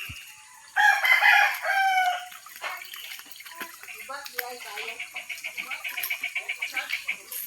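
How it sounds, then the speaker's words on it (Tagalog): A rooster crows loudly nearby, followed by a steady series of rhythmic clucks from chickens, with a person speaking quietly underneath. "Mamahog ta sa manok kay wa pa ta ka pamahog sa manok."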